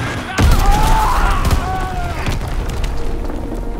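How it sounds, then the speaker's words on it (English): Bombs explode in a Call of Duty WW2 multiplayer match, a sharp near blast followed by a rolling boom and continuing crackle and rumble that fade away. "Enemy bomb incoming. Get to cover."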